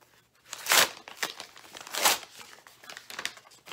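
Football card package torn open by hand, a crinkly plastic wrapper ripping in two loud bursts with softer crackling between, close and without talk.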